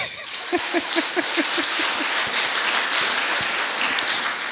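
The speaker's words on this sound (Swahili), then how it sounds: "Mimi nahisi makofi hayatoshi." An audience at a Tanzanian horticulture project celebration applauds. A voice is heard briefly at the start, then many hands clap in a full, steady burst that carries to the end.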